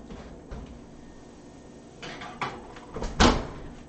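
An oven door shuts after a tray of Halloween cupcakes goes in: a few soft kitchen clunks, then a firm, fairly close bang near the end, with no talking.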